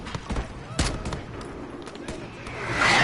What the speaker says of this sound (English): So now they're launching mortars against you.